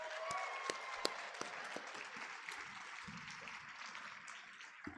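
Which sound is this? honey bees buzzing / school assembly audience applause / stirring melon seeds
school assembly audience applause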